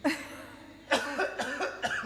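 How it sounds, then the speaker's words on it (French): A person coughs several times in quick succession, close and clear, with a short pause after the first cough. "Et après, je tousse."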